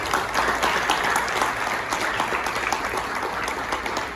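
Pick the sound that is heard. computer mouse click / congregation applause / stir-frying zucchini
congregation applause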